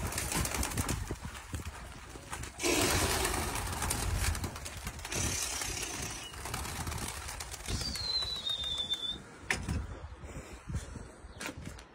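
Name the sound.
pigeons flying and cooing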